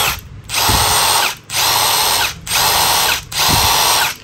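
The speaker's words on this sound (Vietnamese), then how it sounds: "Còn đây thì cái máy bắn bu lông." A Milwaukee 12V cordless impact wrench with a 1/2-inch square drive runs in four loud, close bursts of roughly a second each, separated by short pauses, with no talking.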